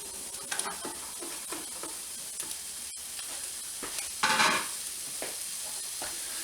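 Vegetables sizzle and crackle in oil in a stir-fry pan, with a steady close hiss broken by brief stirring scrapes and one louder surge of frying near the end.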